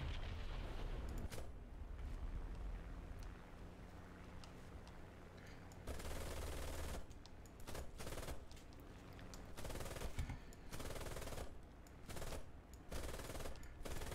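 Machine guns from aircraft in a cockpit-view combat flight game, firing in long rattling bursts broken by short pauses. The shooting is loud and close, with no talk over it.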